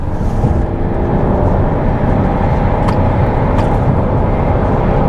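A 2021 Chrysler Pacifica Pinnacle minivan accelerates onto a highway, giving a loud, steady wash of engine and road noise that holds for the whole stretch, with no one talking.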